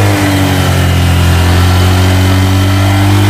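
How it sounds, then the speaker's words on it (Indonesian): Scooter engine revved up close, a loud continuous throaty drone that rises and holds steady with no talk over it. "Coba yang ini digas deh."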